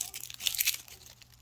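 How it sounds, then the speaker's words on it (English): Excess lamination sheet being cut off a poster board ornament, giving close, quiet crinkling and tearing plastic rustle that swells briefly midway and then fades. "I'm cutting the excess lamination sheet off"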